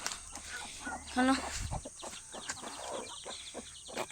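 A chicken gives a short clucking call over faint background noise and scattered clatter outdoors, with no clear talk.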